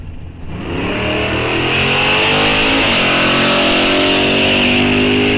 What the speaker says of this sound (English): You hear Wamoff in and out of the throttle, though, as he gets around on the big end